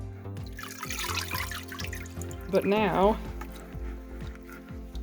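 Hands work a bear hide, including a paw, in salt water, with soft trickles and drips of sloshing liquid while a person talks over it.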